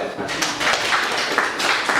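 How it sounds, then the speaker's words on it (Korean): Students in a Korean social welfare administration lecture clap together, a dense, steady patter of hands that lasts about two seconds with a voice faintly beneath it. "박수하세요."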